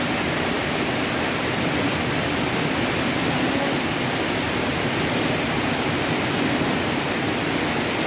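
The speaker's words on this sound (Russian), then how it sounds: "Перейдем к гейзеру. Это тоже пузырьковый массаж." Bubbling geyser jet in an indoor swimming pool at Belaya Vezha gives a constant rushing, hissing wash of water, steady and fairly loud with no pauses.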